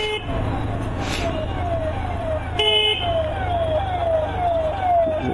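An ambulance siren wails repeatedly in road traffic, with a steady rising-falling tone, under a continuous engine and road rumble and a brief horn blast.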